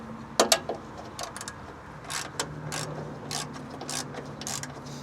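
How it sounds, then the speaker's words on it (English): A ratchet wrench tightening 13mm bolts on a machine, a series of sharp clicking bursts in uneven runs, close and fairly loud, with no talk. "Be careful where to swing the wrench."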